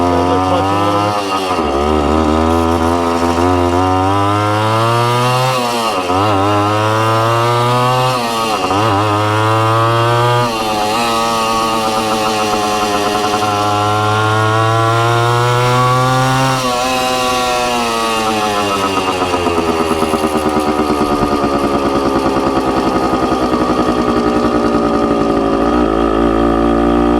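A Suzuki TC-90 motorcycle pulls away in first gear, its small engine revving up and down in repeated rising bursts as the clutch is feathered, loud and close, then settling into a steady high whine.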